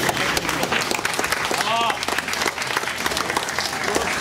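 Audience applause at a school ceremony in Ayutla where a mayor hands support awards to students, steady dense clapping throughout with voices and brief speech mixed over it.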